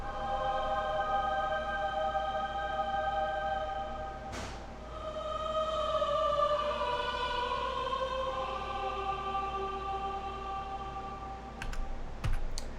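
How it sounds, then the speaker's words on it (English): An orchestral MIDI choir sustains held chords that climb upward in register, with a brief percussive swell and a few sharp hits near the end, in a bright, steady arrangement. "Choir is the last thing in this section, and they're going to be moving up in register"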